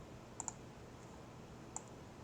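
Computer mouse clicking, three faint, sharp clicks: a quick pair close together, then a single click after a pause, in a quiet room.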